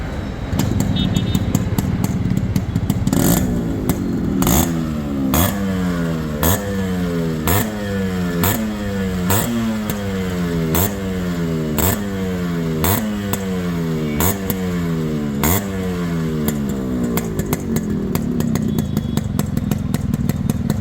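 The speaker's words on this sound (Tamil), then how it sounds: "இப்போ இந்த வண்டியோட பீட் சவுண்டு கேட்கலாம்." Yamaha RX100 motorcycle engine revved repeatedly in short blips, each rise and fall in pitch coming in a regular rhythm over a throaty two-stroke idle, close and loud.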